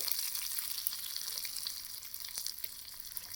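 Hot tempering is poured into dal for Andhra-style pappu, giving a continuous close, bright sizzle that holds steady throughout with a few small crackles.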